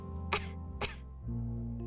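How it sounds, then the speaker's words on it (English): In a video game, two small, muffled, stifled coughs sound close together from a kitchen over a steady low electronic hum, quiet and brief. "I heard something coming from the kitchen, like a small, stifled cough."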